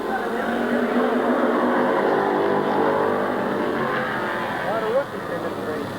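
Race cars at Midvale Speedway in 1999, engines droning continuously around the track at moderate distance under a commentator's voice, with a brief bump near the end.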